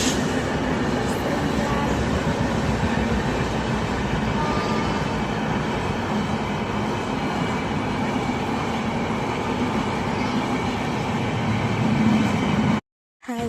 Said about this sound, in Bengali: দেখো আমাদের সামনে দিয়ে ট্রেন যাচ্ছে।